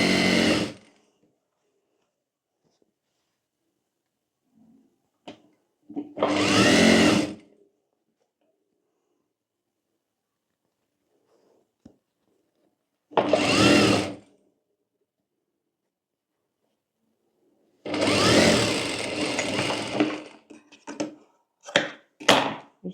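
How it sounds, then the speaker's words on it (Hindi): A sewing machine stitching a collar onto a co-ord set's main fabric, running in several loud, close bursts of steady whirring separated by silent pauses, with a few short clicks near the end. "यहाँ पर कॉलर को लगाकर दोनों पॉइंट को मिलाकर हमें यहाँ पर सिलाई कर लेनी है"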